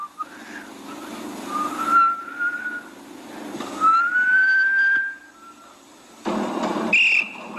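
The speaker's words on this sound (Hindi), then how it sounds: "सीटी की आवाज कहीं और से आ रही भाई साहब।" Whistles said to come from water taps sound as a few thin, drawn-out tones that rise and slide, separated by stretches of quiet hiss, with a brief high chirp near the end.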